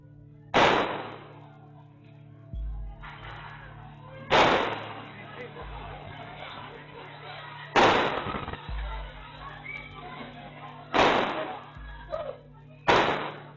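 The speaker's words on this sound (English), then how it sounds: "a group of teenagers set off fireworks in the building" Fireworks set off by teenagers inside the Bayside shopping center in Miami: five sharp, loud bangs at irregular intervals, each followed by a short rumbling echo through the building, with low murmuring in between.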